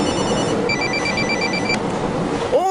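A telephone rings with a repeating electronic trill as an outgoing call is placed, fairly loud and close, over a low background murmur, ending with a brief rising tone.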